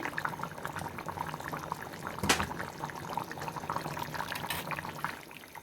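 Water is poured into a bubbling fish curry, producing a close, steady trickling splash over soft simmering, with one sharper clatter partway through.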